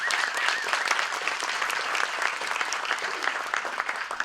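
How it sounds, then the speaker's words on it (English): A church congregation claps for its elders in a sustained round of applause, crisp, many-handed and fairly close, with individual claps popping out of the dense wash and no speech on top. "Give our elders a round of applause."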